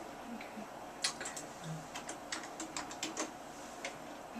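Keys clack on a computer keyboard in a hospital electronic records system, short crisp taps in an irregular sequence over a steady background hum, fairly close and moderately quiet.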